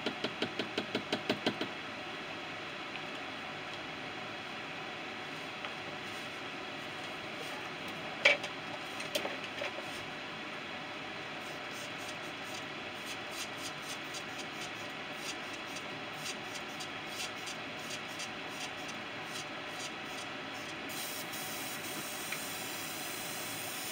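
Airbrush being cleaned out after painting a crankbait fishing lure: a faint, steady hiss of air runs throughout, broken by light knocks and clicks early on and a few near the middle.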